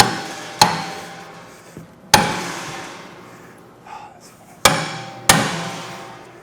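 Four loud, ringing metal hammer strikes driving a forcible entry tool, spaced a second or more apart, each decaying slowly, with a couple of softer knocks between them.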